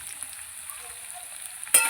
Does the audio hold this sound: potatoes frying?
yes